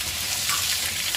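Sliced onions and green chillies sizzle in hot oil in a pan for a beef curry, a brief, close, steady crackling fry with no talk.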